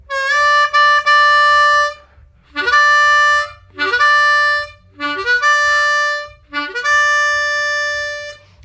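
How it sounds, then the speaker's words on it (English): A harmonica plays a series of bright sustained notes, each phrase sliding upward from the low 1 draw to the 4 draw, repeated five times with short gaps of breathing between. "let's try it going up to a 4 draw"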